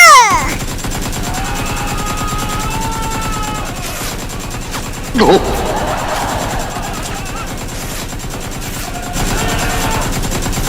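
Gunfire during an Among Us style animated execution scene, a rapid run of shots under a constant cartoon-style music bed, with a louder burst midway and characters speaking around it.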